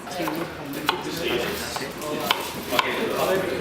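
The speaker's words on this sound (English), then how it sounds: "I think I might chop a carrot instead" Knife chopping a carrot on a cutting board in a kitchen, a few sharp separate chops standing out over steady background room noise.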